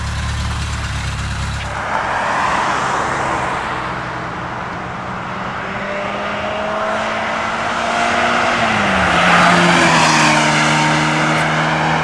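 An old car accelerates hard away from the listener, its engine note rising in pitch through the gears, loud and unbroken for about twelve seconds, with no talking.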